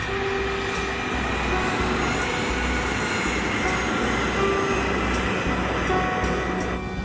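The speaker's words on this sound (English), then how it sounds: "The KLM plane is groping its way through fog." KLM airliner taxiing slowly on a fogbound runway, a continuous low engine rumble and broadband roar with faint whining tones, steady and fairly close, no voices.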